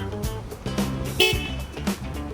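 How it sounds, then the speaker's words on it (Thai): A 2010 Mazda 3 Sport sounds its car horn with short honks while the hood is open, loud and close over a busy background. "เราเปิดฝากระโปรงก็บีบแตรใส่"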